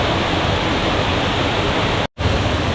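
A waterfall rushes between two hills near Araku Ghat, a loud, steady broadband roar with one brief dropout before the torrent resumes.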